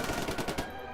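Machine gun fire in a World War II battle scene in France, a loud rapid burst of repeated shots for most of the second before tailing off into a rumbling echo.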